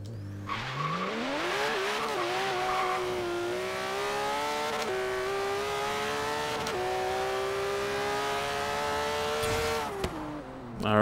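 A tuned four-gear car with drag slicks in Forza Horizon 4 launches with brief tire spin, its engine note rising steadily through a long, loud pull with no talk over it.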